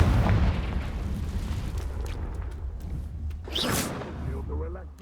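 Confringo fire-blast spell from the video game Hogwarts Legacy bursts with a loud, booming low thud at the start, followed by crackling debris and a brighter whoosh midway over a continuous game rumble.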